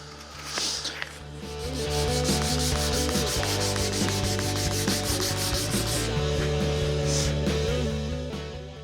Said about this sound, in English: let's sand that down